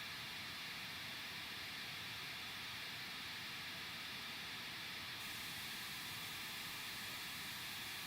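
A steady white noise test signal fed through an IK Multimedia Tonex setup: an even, unbroken hiss at constant level for the whole stretch, with no other sounds and no talk.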